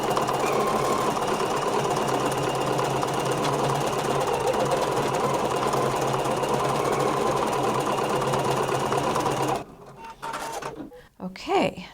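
An embroidery machine runs a steady, continuous stitching hum, laying a tack-down stitch over buttermilk felt applique for a banner on a tote bag. It stays loud and unbroken for about nine seconds, then stops, leaving a few soft handling noises.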